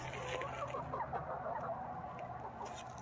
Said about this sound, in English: chickens are not fond of it, but they do happily come out to look for food